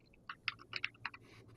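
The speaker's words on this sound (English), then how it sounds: "I hate typing for an audience." Computer keyboard typing in a short burst of irregular, close, crisp key clicks with no voices, done while asking a question about a tire losing air pressure.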